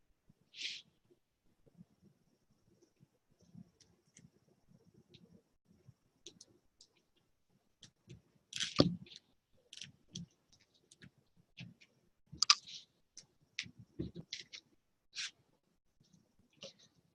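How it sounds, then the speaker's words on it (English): A zip tie is tightened around poly burlap while a yarn-centred flower is being made. It gives faint, sparse ticks and small clicks in a quiet room, with a few sharper ratcheting bursts close to the microphone. "And you're going to zip tie it."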